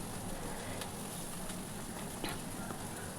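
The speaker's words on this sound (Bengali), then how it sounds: "কড়াইতে আমি আর একটু সর্ষের তেল দিয়ে এবার কুচনো পেঁয়াজ দিয়ে দিলাম" Chopped onions frying in mustard oil in a wok, a steady, close, dense sizzle that hisses continuously with a few faint clicks and spits, no talking.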